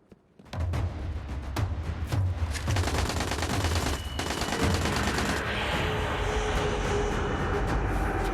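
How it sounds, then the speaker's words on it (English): Sustained rapid gunfire in the sci-fi shooter Destiny Rising, dense bursts of automatic weapon fire with repeated sharp shots, loud and continuous throughout with a heavy rumbling battle bed. "They're shooting their allies?"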